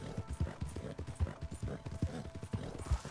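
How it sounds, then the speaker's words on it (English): Horse hooves trotting in the video game Red Dead Online: a steady, rhythmic clip-clop of hoofbeats at a brisk pace, moderately loud and close, over a low background rumble. "Come on, horsey, giddy up."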